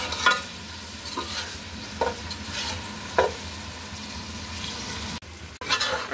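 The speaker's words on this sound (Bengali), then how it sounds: "এখন পেঁয়াজগুলোকে ভেজে নিব। ভালো মতো নাড়াচাড়া দিয়ে ভেজে নিব।" Sliced onions frying in a pan for a beef curry, a steady soft sizzle broken by sharp scraping clicks of a spatula stirring every second or so, close and alone.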